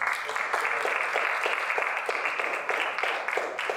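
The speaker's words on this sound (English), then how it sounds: "Let's give them a round of applause one more time." An audience at a community ballot-initiative meeting applauds steadily, a dense, even patter of many hands clapping throughout at moderate loudness with no voices on top.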